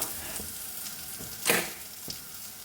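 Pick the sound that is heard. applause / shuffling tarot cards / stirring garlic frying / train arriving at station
stirring garlic frying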